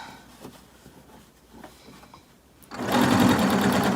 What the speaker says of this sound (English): Keep sewing.